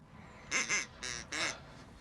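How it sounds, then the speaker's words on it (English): A duck quacks in a children's TV show, four short nasal quacks in quick succession, close and clear over quiet background. "Derek the duck."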